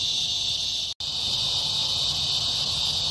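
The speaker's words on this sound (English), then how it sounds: "the sound you hear in the back is cicadas" Cicadas buzz in a dense, unbroken evening drone outdoors, loud and close, broken only by a brief dropout near the start.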